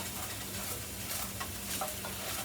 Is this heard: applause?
no